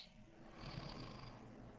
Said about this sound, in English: who the fuck is in here snoring?